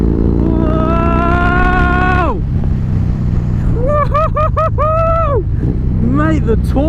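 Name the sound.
Harley-Davidson 110 cubic inch motorcycle riding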